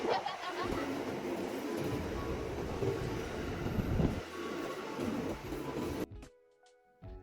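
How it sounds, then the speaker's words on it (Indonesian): A commuter train pulls into a station with a loud, continuous rumble and rolling clatter that eases off and then cuts out near the end. "Akhirnya kereta kita sampai juga."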